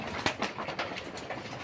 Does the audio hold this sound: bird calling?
yes